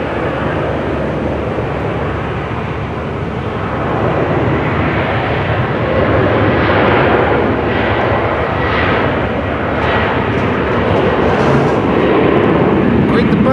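A fixed-wing airliner's engines roar steadily close by at Amsterdam Schiphol Airport, loud and continuous with a broad rumble that swells slightly midway, while voices talk over it.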